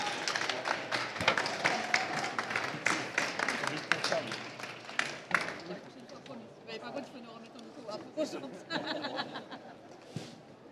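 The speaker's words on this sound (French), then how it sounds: "vous pouvez les applaudir" An audience at a bakery and snack awards forum claps for the winners, scattered clapping and chatter with light laughter, fading toward the end.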